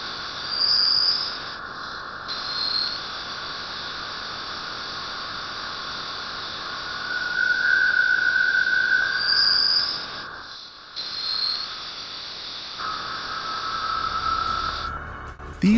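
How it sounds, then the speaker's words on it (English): Sonification of the interstellar medium: a continuous hiss of static-like noise with a steady hum, punctuated by brief high electronic chirps and tones, fairly even in loudness with a couple of short dropouts. "Here is the sound of the interstellar medium."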